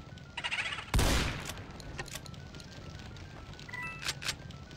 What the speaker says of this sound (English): why a shotgun blast can kill a ghost